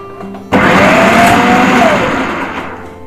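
An electric vegetable cutter whirs loudly as it slices peeled potatoes into even fries, starting abruptly and running steadily at close range with a rising motor whine.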